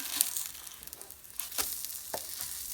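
A small Japanese pizza sizzles in a pan as it is flipped: a soft continuous frying hiss with a few brief louder spits and crackles, close and fairly quiet.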